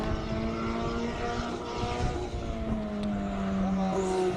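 A Mercedes-Benz A45 four-cylinder turbo race car runs at a hillclimb event, its engine droning steadily and loudly with rising harmonic tones throughout, under crowd and track ambience.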